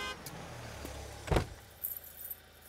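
A car pulling up and stopping: a low engine rumble, then a sharp thump in the middle, followed by a few faint light rattles as it comes to rest.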